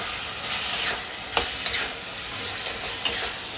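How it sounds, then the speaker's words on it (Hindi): Pumpkin sabzi is stir-fried in a pan, a steady oily sizzle broken by several sharp scrapes and taps of a spatula, close and without speech. "और अब हम इसे अच्छे से भूनेंगे।"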